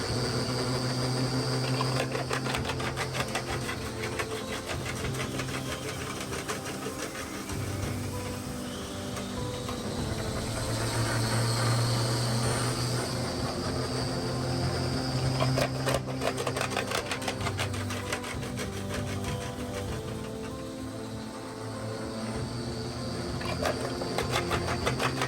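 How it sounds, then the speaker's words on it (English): A chain mill crushing a gold ore sample from an Arizona mine, with a vacuum attached, runs steadily with a dense mechanical rattle and clatter and a continuous whirring hum, loud and close throughout with no talking. "the material drops down through this funnel and into the chain mill. The chain mill is connected to a vacuum"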